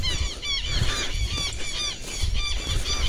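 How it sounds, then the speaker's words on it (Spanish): Southern lapwings call loudly from woodland during a slingshot pigeon hunt, giving repeated harsh, high alarm cries in quick overlapping bursts over a noisy outdoor background. "Los teros gritones. Están avisando que ando yo acá"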